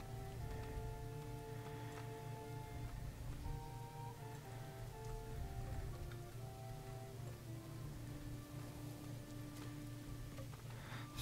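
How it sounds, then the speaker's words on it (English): Rain falling steadily in the medieval city-building game Manor Lords, a soft continuous patter with scattered drip ticks, held low beneath a sustained musical score. "Rain is not doing us any favors"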